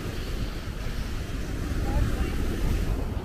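Steady rushing surf of sea waves washing onto the shore of Brač island, Croatia, with wind buffeting the microphone throughout.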